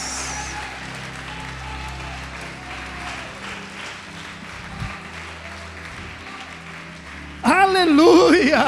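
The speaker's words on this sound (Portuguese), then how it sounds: "Pode aplaudir e glorificar a Deus." Church congregation applauding and glorifying God during a sermon, a steady broadband wash of clapping with murmured voices throughout, then a louder burst with a raised voice near the end.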